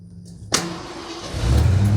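A Ford F150 with a starting fault from bad grounds cranks briefly, then catches and fires up, settling into a loud, steady idle that swells near the end.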